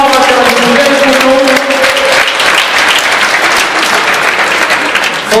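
A crowd at the inauguration of the Equi'Périgord riding arena breaks into warm, sustained applause, with a voice still talking over it for the first couple of seconds before the clapping carries on alone.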